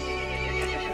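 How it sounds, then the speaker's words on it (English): A horse in the Resident Evil Village video game lets out a short, loud neigh, with no voices over it. "The horse grew angry and summoned the other monsters."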